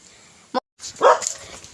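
A single short, high yip from a puppy, followed by a brief pause and then a rising, whiny bark with some background noise.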